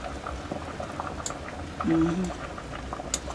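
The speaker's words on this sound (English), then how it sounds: "Irish are bubbling now." Irish potatoes boil in a pot in a garden kitchen in Jamaica, a close, steady bubbling with small pops, with a brief tonal sound partway through.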